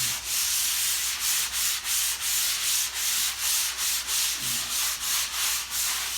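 Hand sanding a patched drywall repair, a rhythmic rasping rub with about fifteen even back-and-forth strokes, close and steady with no talking.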